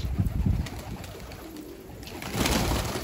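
Pigeons coo softly amid rustling and wind-like noise outdoors on a rooftop, with a steady high-pitched electronic whine in the background.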